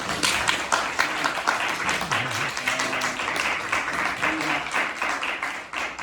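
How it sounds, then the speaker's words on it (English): An audience at a reading event claps in sustained applause, dense and even throughout, with a voice faintly speaking over it. "So please join me to give a round of applause."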